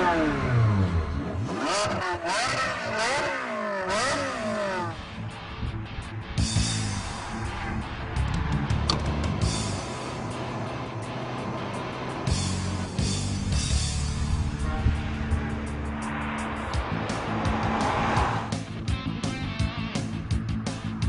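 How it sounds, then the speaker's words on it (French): A Ferrari F430 V8 driven with the roof down, revving hard through rising engine notes, then settling into a sustained metallic drone with further surges and shifts, loud and close. "le V8 Ferrari possède une sonorité métallique inimitable"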